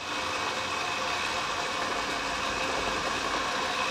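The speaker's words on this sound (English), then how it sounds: "The cassette's making a noise." Coleco Adam data pack cassette drive running, a continuous mechanical whirring hum that stays loud and steady without breaks, with no voices present.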